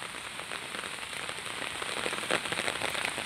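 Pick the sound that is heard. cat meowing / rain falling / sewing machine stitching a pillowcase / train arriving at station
rain falling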